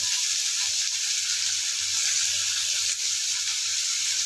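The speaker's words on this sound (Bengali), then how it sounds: "এবার হালকা একটু ভাজবো, একটু বেশি ভাজবো না" Chopped onion fries in hot oil in a pan for an egg curry, a constant bright sizzle and hiss that holds steady and close without a break, with no voices over it.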